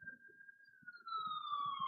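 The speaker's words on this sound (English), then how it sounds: "Oh, it's an ambulance." An ambulance siren passes by, a steady wailing tone that swells louder and drops in pitch as it moves past, with faint low rumbling underneath.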